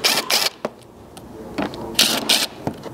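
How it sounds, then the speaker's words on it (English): A ratchet turning a 10 mm socket to remove bumper screws on a 4th-gen Toyota Tacoma, with close, crisp bursts of clicking in short runs separated by brief pauses. "these are again being removed with that number 10 socket"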